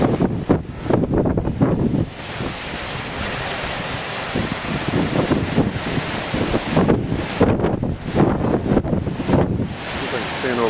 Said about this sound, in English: I get a little wind blowing